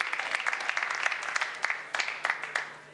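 Scattered hand clapping from a small group, uneven and fairly quiet, with sharp claps standing out over a light patter.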